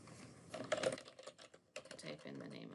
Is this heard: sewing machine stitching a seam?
no